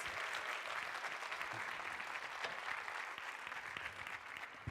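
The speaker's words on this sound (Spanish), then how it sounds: "a strong hand of applause." A church congregation gives a strong round of applause during a bilingual Spanish-English service, dense continuous clapping from many hands, fairly loud and sustained, fading slightly near the end.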